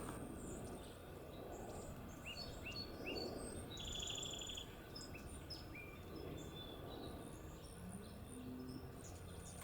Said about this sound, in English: Oh my gosh. Seagulls.